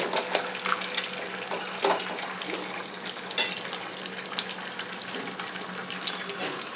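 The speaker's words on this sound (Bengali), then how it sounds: "এবার এর মধ্যে আমি ডালটা ঢেলে দেব" Dal being poured into a hot pan of egg tarka, a steady wet sizzle and bubbling with clinks and splashes running throughout, close up and fairly loud, no talking.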